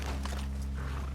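Horses' hooves clop softly in Red Dead Redemption 2 gameplay, faint irregular hoof steps over a steady low rumble of ambient game sound.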